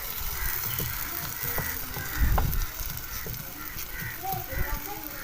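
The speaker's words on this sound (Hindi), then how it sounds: "इसके ऊपर हम थोड़ा सा ऑयल डाल लेते हैं। अब इसके ऊपर मैं पराठा डाल देती हूँ ऐसे।" Paratha sizzling in oil on a hot tawa, a steady close frying crackle with scattered pops and a few louder bursts, under a voice talking.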